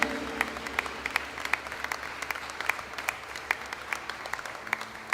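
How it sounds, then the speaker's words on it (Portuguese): Congregation clapping during a church worship service, rhythmic and fairly distant, with a steady pulse of hand claps over a low hum of the room. "Aplauda ao Senhor Jesus."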